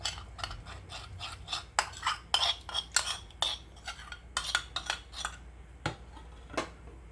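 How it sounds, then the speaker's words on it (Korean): A sauce mixture with water for a seasoned dried squid side dish is stirred in a bowl, a quick series of close scraping, clinking strokes of a spoon, briefly pausing near the end. "물 두 큰술을 같이 이렇게 저어서"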